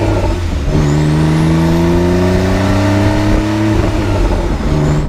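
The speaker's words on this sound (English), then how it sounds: "The turbo has not robbed the engine of that sort of low-end sort of growl that you get typically on a flat six." Porsche 911 Carrera T turbocharged flat-six engine revving loudly and up close, its deep growl climbing steadily in pitch, holding high for a moment and then dropping back, with no voices present.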